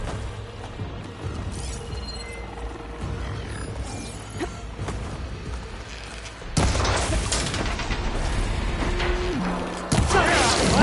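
Combat in Horizon Forbidden West as machine couplings are broken, with a dense clatter of impacts, booms and mechanical crashes that grows louder and busier partway through.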